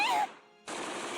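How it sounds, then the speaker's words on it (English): Automatic gunfire from the Steins;Gate video game rattles loudly, breaks off briefly with a fading tone, then resumes in a dense burst. "I hear Karisa and Daru screaming as the gunfire continues"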